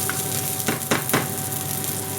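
Sugar and salt caramelizing in a hot frying pan while making a spicy omelette give a steady close sizzle, broken by a few short louder bursts of stirring.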